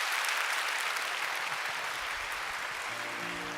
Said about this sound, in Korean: 우리 세 분 인사하실 때 큰 박수로 축복해 주시기 바랍니다.